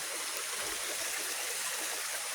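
Water flows steadily from a natural spring in a rural province, a continuous close rushing and trickling with no voices.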